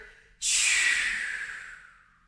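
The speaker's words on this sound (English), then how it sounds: "push all of the breath out as hard as you can" A single forceful exhalation during a core workout, a sharp, loud breath out that begins abruptly and trails off slowly, close and alone.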